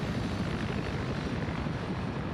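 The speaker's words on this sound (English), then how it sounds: "Both helicopters, I think they've both kind of given up on chasing each other." Helicopter rotors from a combat video game drone in a steady, loud, continuous thrum with dense low-end chop, no talk over it.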